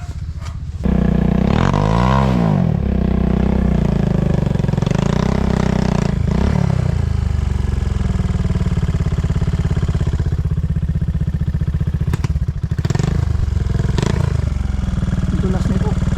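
An enduro trail motorcycle on a slippery trail ride in Aringay, La Union runs loud and close, idling and revving in repeated rising surges with some clatter, and occasional voices are heard over the engine.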